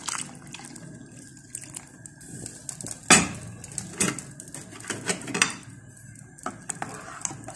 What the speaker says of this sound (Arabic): غادي نزيدو لها الماء فين طبنا الحريره.